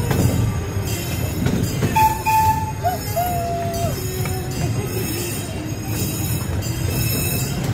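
A small amusement park train rumbles along its rails through Storybook Land with squealing wheels and a whine, steady and fairly loud throughout, no voices.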